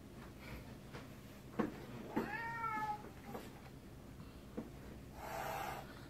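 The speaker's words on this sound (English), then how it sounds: "What's it hissing?" A cat blocking a person's path on a stairway lets out a short rising-and-falling meow in the middle, with faint scuffs and soft hiss-like noise around it, moderately close in a quiet indoor space.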